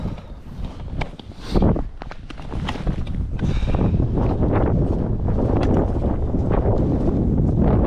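Strong wind gusts buffet the microphone on a frozen lake during winter perch ice fishing, making loud, uneven rumbling bursts that build into a continuous heavy roar.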